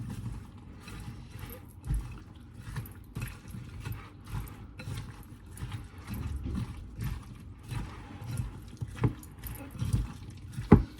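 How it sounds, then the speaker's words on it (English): Fruit salad with cashews being stirred together in a bowl, soft repeated scraping and wet squelching clacks at an uneven rhythm, close and moderately loud. "And then you just mix this all together."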